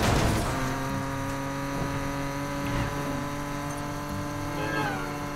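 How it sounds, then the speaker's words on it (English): Car engines droning and revving in the racing game Need for Speed Payback, a steady loud motor hum with a sharper rev burst at the start. "Better hurry, engines are revving."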